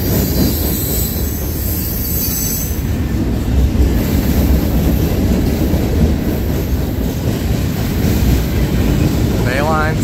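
A Norfolk Southern 38G freight train rolls past at Tarentum, Pennsylvania, its heavy steady rumble of wheels and cars filling the whole stretch, with a brief wheel squeal rising near the end.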